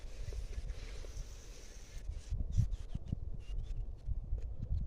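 A low, throbbing tractor engine rumble runs continuously in a sugarcane field beneath gusty wind noise buffeting the microphone outdoors.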